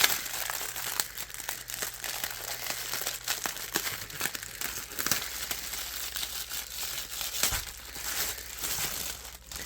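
Plastic packaging crinkles and crumples steadily for nearly ten seconds as a new-to-me shop order is unboxed, with dense crackling handled close up, a few sharper tearing bursts, and no talking.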